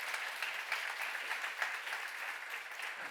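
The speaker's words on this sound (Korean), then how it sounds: "여러분은 예수님의 식구라고 믿는 사람만 박수라" A church seminar congregation claps together in a steady, even wash of applause lasting several seconds, moderately loud and without speech over it.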